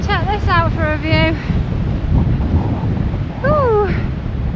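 Strong wind buffets the microphone with a steady low roar while a few bird-like whistling calls ring out over it.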